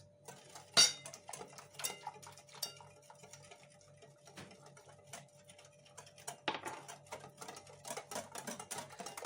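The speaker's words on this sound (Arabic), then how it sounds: "دابا غادي نكملوا بالخلاط اللي هو يدوي" A hand whisk beating tiramisu cake batter in a bowl clicks and taps in quick, irregular bursts, with a few sharper knocks against the bowl's rim, fairly faint in a quiet room.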